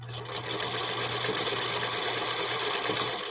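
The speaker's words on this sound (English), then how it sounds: "I'm not going to sew all the way out to the edge in case I need to add more on." A Featherweight sewing machine stitches fabric strips with a continuous, even mechanical whir and a low steady hum, close by and moderately quiet throughout, with no talking.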